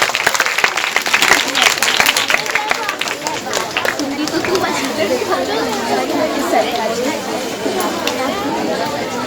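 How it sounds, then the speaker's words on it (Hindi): Audience at an Islamic quiz competition applauding, a burst of close, loud clapping that gradually thins into crowd chatter and talking voices. "एक बार और तालियां बजा दीजिए।"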